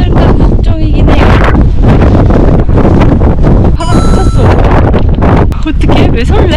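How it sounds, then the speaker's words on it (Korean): Strong gusts buffet the microphone high on Hallasan mountain, a loud continuous roar of wind noise with rumbling swells, while a voice talks underneath through much of it. "날씨가 너무 좋은데 바람이 너무 많이 불어서 이 말소리가 담기지 않을까 걱정이긴 해요"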